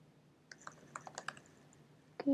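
A short run of crisp, fairly quiet keystrokes on a computer keyboard while entering Git commands, about eight separate clicks in quick succession followed by a louder final tap.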